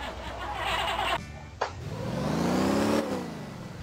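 Car in the driving game Motor Town: Behind The Wheel pulling away, its engine revving up in a rising whine that climbs steadily, then drops off near the end, after a short clunk partway through.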